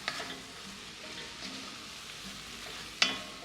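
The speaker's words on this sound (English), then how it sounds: "I'm going to add the taco seasoning to the meat and give that one nice mixing like this" A spoon stirs browned ground meat and taco seasoning in a pan for taco chili, a soft, quiet scraping and faint sizzle with a couple of sharper clinks near the end.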